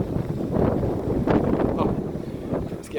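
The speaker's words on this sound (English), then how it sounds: "Oh, it's getting windier." Strong wind buffeting the microphone on a walk along Fuengirola beach, a constant gusty roar that swells and dips throughout, with faint background sounds of people nearby.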